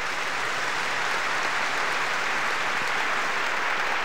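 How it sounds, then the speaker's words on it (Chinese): Sustained audience applause at a product presentation event, steady and dense clapping from a live crowd throughout, with no speech over it. "可不可以给我点掌声？"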